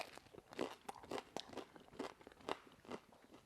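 Crisp crunches of teeth biting into the crust of a French baguette, a quick run of close, dry crackling bites with short pauses between them.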